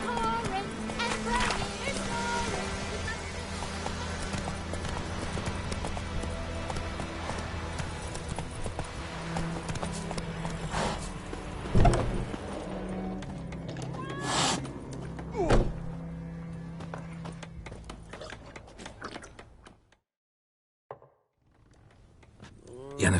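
Roach, a horse in the video game The Witcher 3, gallops with steady clip-clop hoofbeats. Thuds, music and speech run over them, and the sound drops almost to silence near the end.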